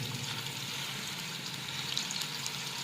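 Chicken kebabs frying in a pan over medium-low flame, a steady close sizzle and crackle of hot oil that runs evenly without pause.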